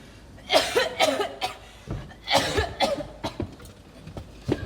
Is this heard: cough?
yes